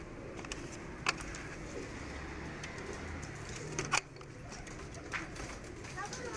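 Pigeons coo in Karachi on a steady outdoor background, with a few brief sharp knocks and some faint talk nearby.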